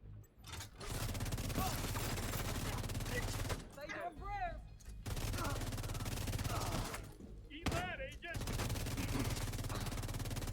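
Sustained automatic gunfire in the shooter The Division 2, dense and continuous across several long bursts, broken by short gaps where a player talks and in-game voices are heard.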